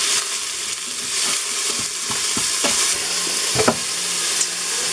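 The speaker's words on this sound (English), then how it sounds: "we got a saute going here" Onions sauté in a pot for ham and bean soup, giving a loud, close, continuous sizzle with occasional soft clicks of stirring.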